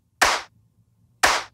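Two dry clap hits from a bit-crushed synthwave drum sample, each a crisp bright snap with a short decay, spaced about one second apart in silence.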